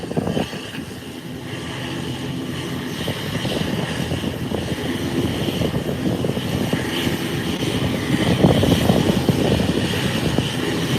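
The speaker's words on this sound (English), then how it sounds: "An American airline is now hitting the runway for takeoff." An American Airlines plane accelerating down an airport runway for takeoff produces a rumbling engine roar that builds steadily in loudness from moderate to strong.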